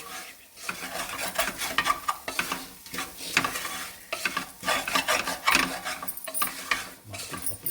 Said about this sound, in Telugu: ఇప్పుడు అంతా మంచిగా కలుపుకోవాలండి ఇది